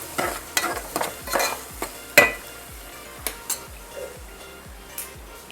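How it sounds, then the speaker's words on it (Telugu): Onions fry in a pan and are stirred with a utensil, sharp scraping and clinking strokes repeating every half second or so over a soft sizzle, close and unaccompanied by talk. "ఆనియన్ వేగిపోయినాయండి"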